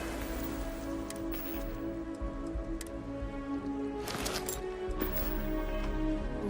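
Rain falls in the video game Starfield as a steady patter of drops with occasional sharper ticks, continuous and moderately close.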